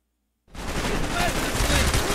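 Gunfire in the video game Call of Duty Black Ops: after a half-second of silence, a dense, loud, continuous burst of rapid shots and battle noise, with the firing sustained to the end.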